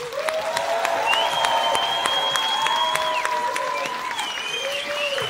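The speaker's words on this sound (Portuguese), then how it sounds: "uma salva de palmas." A comedy-show audience applauds steadily for stand-up comedian Afonso Padilha, dense clapping running for several seconds with sharp whistles cutting through above it.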